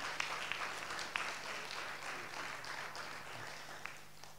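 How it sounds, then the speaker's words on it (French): Audience at a national eloquence contest applauding the finalists, steady moderate clapping from a crowd heard at a slight distance, with no talk over it. "Je crois qu'on peut les applaudir,"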